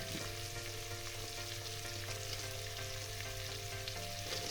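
Cubed pumpkin sautés in a pan with turmeric, salt and green chili, giving a steady, close sizzle with faint stirring scrapes and no talk.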